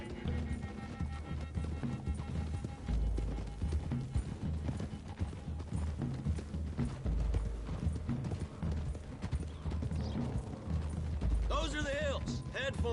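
Horses galloping over hilly terrain in a video game, a dense continuous rumble of hoofbeats thudding close and loud throughout, with a brief whinny near the end.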